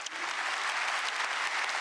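Steady, even applause from an audience at a Korean government policy presentation, filling the whole stretch at moderate loudness with no talk over it.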